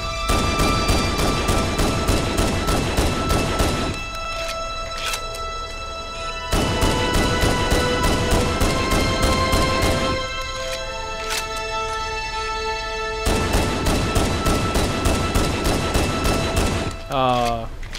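Magnum pistol fire in Halo CE Anniversary, rapid bursts of sharp repeated shots in clusters separated by brief pauses, with game effects and music tones underneath.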